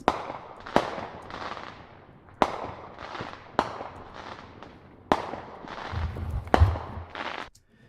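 Outdoor Fourth of July fireworks are recorded for use as drum-kit samples, with five sharp cracks followed by crackling, hissing tails. A low rumble swells near the end.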